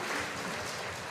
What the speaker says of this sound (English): I want to give a round of applause to our board members and Superintendent Gordon for standing there